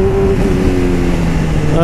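Honda CBR motorcycle engine freshly back from a full service, running with a steady, smooth throbbing hum that holds close and loud for the whole short stretch, with a voice speaking over it.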